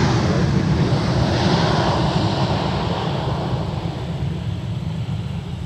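A Target corporate jet at MSP airport gives a steady, loud engine roar with broad rushing noise, slowly fading slightly over several seconds.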